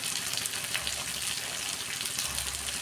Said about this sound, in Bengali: আর 2 মিনিট আমি ভালো করে কষাবো।